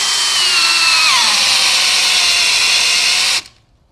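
A power drill runs at high speed through a workpiece during a tool test, a loud steady whine that dips briefly in pitch near the start, then cuts off abruptly into silence.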